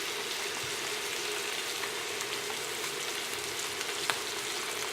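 Butter sizzles in a hot pan alongside a ribeye steak, a steady, close hiss with tiny popping spatters and no voices.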